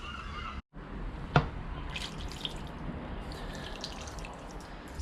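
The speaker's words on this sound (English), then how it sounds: "Pour some water over it now, just to rinse it." Water poured over a Yamaha QT50 moped engine to rinse it, a steady splashing and trickling wash with a brief sharp drip, with faint seagull cries in the background.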